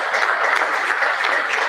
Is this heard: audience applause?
yes